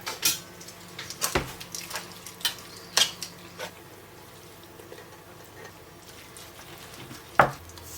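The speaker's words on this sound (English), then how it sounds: "Now I'm going to pop the meat sauce in there. Right, and we're going to stir that in." Meat sauce being stirred into drained pasta, a few soft wet scrapes and squelches spaced unevenly, close but quiet against a low background hum, with no speech.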